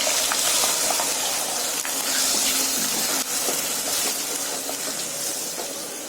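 Chicken liver frying in hot oil with curry leaves in a pan, a steady loud sizzle and crackle that holds throughout with a few sharp pops, no talk.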